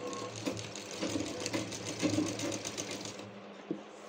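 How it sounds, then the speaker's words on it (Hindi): Sewing machine stitching sharara fabric up to the crotch point, a steady rapid mechanical whir with faint rhythmic clicks, close and continuous before stopping near the end. "अब हम इसे स्टिच करेंगे।"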